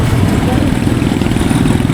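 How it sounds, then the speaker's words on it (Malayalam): A 100cc motorcycle carrying six riders on the road from Cebu to Moalboal, its engine giving a steady, close, low-pitched rumble that holds even throughout with no clear revving. "മോട്ടോർ സൈക്കിൾ 100cc എഞ്ചിനിൽ 6 പേരെ വെച്ചെന്നാണ് പോകുന്നത്"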